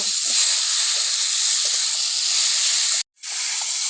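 Rui fish and kohlrabi sautéing with salt in a pan give off a steady, close hiss of sizzling, broken by one brief dropout near the end.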